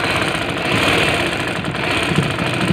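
A sewing machine runs steadily, stitching a hem channel on net curtain fabric, a continuous close mechanical whir with no pauses and no talk.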